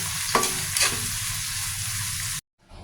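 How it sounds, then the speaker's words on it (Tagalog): Chopped onion and tomato sizzle steadily in a hot pan while cooking ginisang tokwa at pechay, with a couple of quick stirring scrapes early on before the frying cuts off abruptly. "tsaka naman natin ilagay itong kamatis. Lutuin lang muna natin ito ng maigi"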